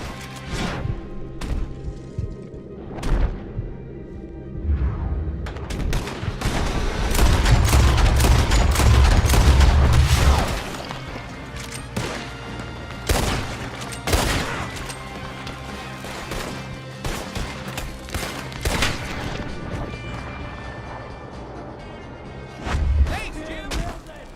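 Gunfire in Red Dead Redemption 2, loud sharp shots and rapid volleys with heavy booming thuds and crashes, some bursts overlapping, with occasional voices under the shooting.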